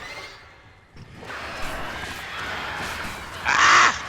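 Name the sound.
birds attacking in video game Alan Wake Remastered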